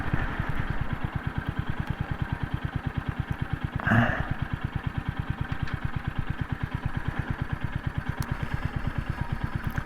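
A Royal Enfield Hunter 350 single-cylinder motorcycle idles nearby with a steady, even thump of rapid regular pulses throughout, and a short clatter partway through. No one speaks.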